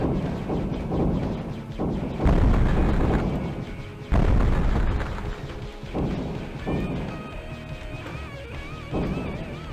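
Arcade-style explosion bursts from Asteroids on an Evercade handheld, several loud booming blasts around two and four seconds, set over upbeat game music with rhythmic beats.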